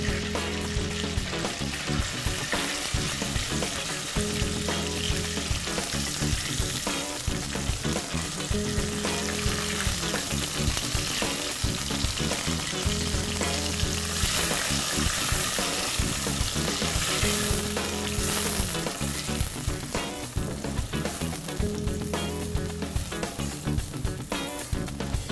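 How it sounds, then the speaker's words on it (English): Blended pepper and onions fry in hot oil for an egusi soya soup, giving a steady, dense sizzle that runs unbroken and close throughout, with a faint repeating background pattern underneath. "After heating your oil, you add the blended pepper and onions."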